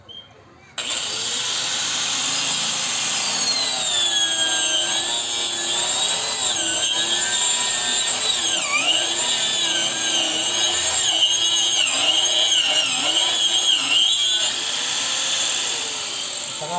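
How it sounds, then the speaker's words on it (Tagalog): An angle grinder fitted with a blade bites into wood: a loud, steady, close high-pitched whine kicks in just under a second in and runs throughout, its pitch sagging repeatedly as the blade loads up in the cut. "Pigilan nyo na maigi ang grinder nyo, kailangan hindi kayo magpatalo."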